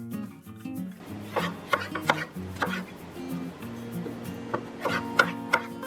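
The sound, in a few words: knife cutting bell pepper into strips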